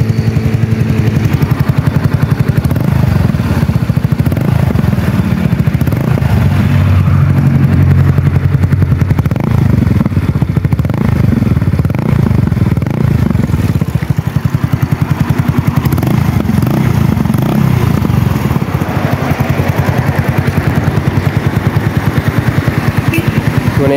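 A Yamaha Mio scooter engine fitted with a new muffler runs loud and close, its raspy, continuous drone rising and falling as it is revved.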